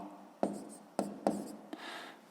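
Pen writing numbers on paper during a sixth-grade math exercise, four crisp strokes and taps at uneven intervals with a short scratchy run at the end, close and quiet.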